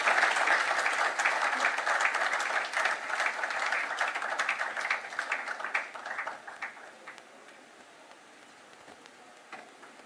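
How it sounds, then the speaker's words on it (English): After a leadership lecture on the power sector, the audience breaks into a full round of applause that holds strong for several seconds, then tapers off and fades to scattered claps. "something tells me that round of applause wasn't loud enough"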